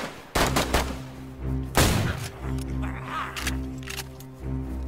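Several sharp gunshots from a survival game firefight crack out in quick, uneven succession, loud and close. A couple of separate bursts are set against a steady background hum.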